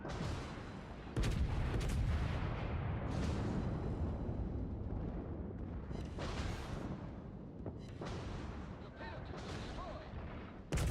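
Heavy warship main battery guns fire in World of Warships in repeated deep booming salvos with loud sharp onsets and long rumbling tails, layered over continuous game noise.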